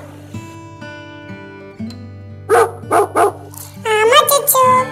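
A dog tied up at a children's park gives a few short barks and yips, mid-distance, amid ongoing voices and background music.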